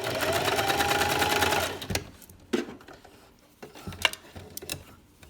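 A sewing machine zigzag stitches along a fabric edge on a baby sleeper, a close, loud steady whir that stops after two seconds, followed by scattered clicks and handling knocks of fabric and machine parts.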